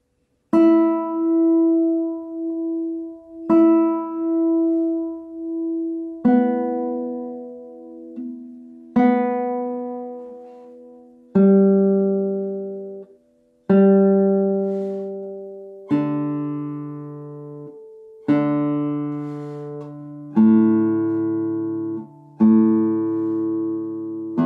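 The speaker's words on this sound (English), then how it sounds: "Now we will play free strokes with a slow follow through." Classical guitar played with free strokes and a slow follow-through: about nine soft, single plucked notes at even spacing, each ringing and fading before the next, alone and close.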